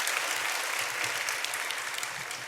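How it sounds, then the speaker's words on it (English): Guests at an awards dinner applaud in a brief, dense burst of many hands clapping together, steady and fairly even throughout. "Let's give them a round of applause."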